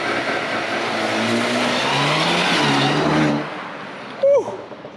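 Mercedes A35 AMG launching hard on launch control, a loud rising engine roar climbing through revs for about three seconds before cutting off, followed by a short sharp squeak.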